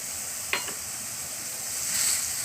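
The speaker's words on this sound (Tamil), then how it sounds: "தேங்காய் பூவை சேர்த்து ஒரு 1 நிமிஷம் நல்லா கிளறி விட்டு" Grated coconut stirred into frying amaranth greens in a pan, a soft continuous sizzle with one sharp scrape of a spoon near the start.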